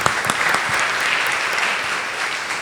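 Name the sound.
congregation applause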